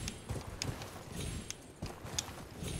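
Horse hooves clip-clopping in a galloping rhythm in the Elden Ring video game, several uneven thuds and clatters close and fairly loud, with no speech.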